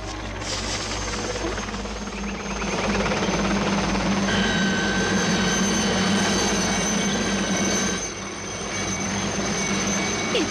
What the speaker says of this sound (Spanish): Deberían prohibir a los helicópteros volar sobre zonas residenciales.